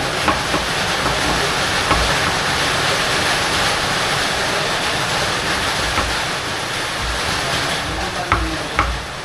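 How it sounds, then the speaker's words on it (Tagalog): Heavy rain pours down in a dense, steady roar close by. A few sharp taps and knocks stand out near the end. "Umuulan na, narinig nyo?"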